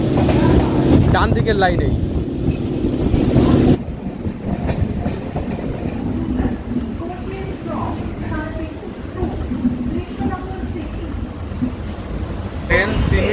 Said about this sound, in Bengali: ট্রেন ঢুকছে শান্তিপুরে নির্ধারিত সময় 7:20 থেকে 3 মিনিট আগে